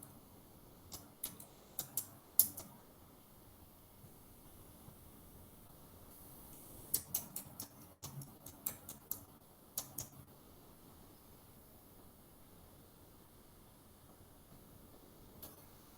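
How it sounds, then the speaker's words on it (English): Intermittent bursts of keyboard typing during an online microelectronics lecture, quiet, close clicks clustered in short runs with long pauses and a faint room hiss between them. "Oh, you are typing the answer."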